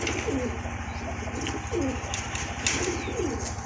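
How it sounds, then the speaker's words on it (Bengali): Several pigeons, Golla-type birds kept for sale, coo in repeated low throaty phrases close by, over a steady background hum and rustle. "আরেক জোড়া গোল্লা কবুতর আছে এখানে"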